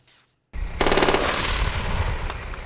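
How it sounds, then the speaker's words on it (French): An armored vehicle fires a remote-operated 20 mm cannon and 7.62 mm gun during a military firing demonstration: a loud rapid burst of automatic fire with a heavy booming echo rolling out afterward, no voices. "Démonstration de tir télé opérée au canon de 20 mm et de 7 mm 62."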